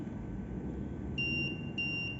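An ESP8266-driven ultrasonic parking sensor buzzer, with the object at 30 cm, gives steady high-pitched electronic beeps in a slow, even rhythm over low background hum, with no talking.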